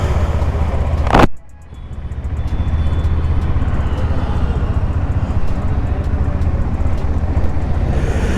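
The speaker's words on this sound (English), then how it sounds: "Let's start the bike. The bike got started." A 2020 KTM 390 Adventure BS6 motorcycle engine starts with a short, sharp burst, then settles into a steady, loud idle drone that runs to the end.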